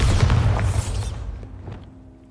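The Bombarda blasting spell goes off in Hogwarts Legacy as one loud, deep boom with a bright crack at the start, then a rumbling decay that fades over about two seconds.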